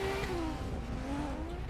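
A drift car's engine in Assetto Corsa, played on a racing wheel rig, sends out a steady revving tone whose pitch slides down and then climbs again, close and continuous, with possible tyre noise beneath it.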